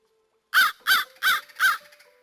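Crows pecking at whole tilapia fish left in the woods give four loud, evenly spaced caws, near and clear, with no talk.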